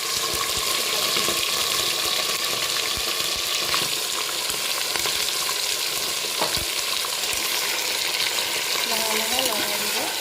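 Spices and bay leaves being stirred and fried in oil in a pan for a coconut goat meat curry, a loud, steady close sizzle with scraping stirring noises throughout and faint voice-like tones near the end.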